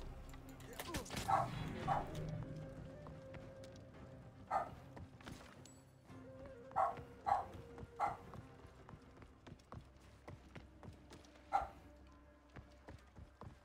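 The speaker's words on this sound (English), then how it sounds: "That's Sheba barking, Noof." A pet dog barks indoors at home, several short, faint barks scattered across the stretch over background game sound effects with hoof-like clopping.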